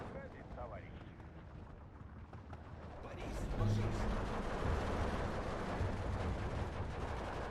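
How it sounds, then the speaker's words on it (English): Airstrike explosions in the Steel Division 2 video game rumble in as a low, rolling barrage that builds midway and stays heavy, mixed with scattered gunfire and a voice talking at the start. "With our airstrikes coming in"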